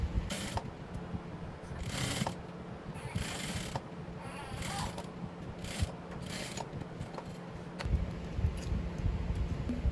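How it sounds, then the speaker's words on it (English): A sewing machine stitches asooke fabric for a kaftan, giving bursts of rapid mechanical whirring and clattering separated by short pauses, close by, with no voices. "I've already cut out my piece, so I'm going to go ahead and stitch it up"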